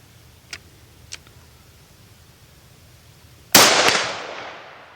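A Springfield Armory Hellion rifle firing steel-case ammunition at steel targets downrange: after two faint ticks, one loud close shot rings out with a long decaying tail.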